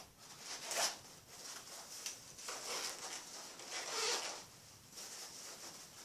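The zipper on the main compartment of a Hazard 4 Second Front backpack being drawn open in several slow pulls, a soft close rasping whir rising and fading in bursts, quiet with no voices.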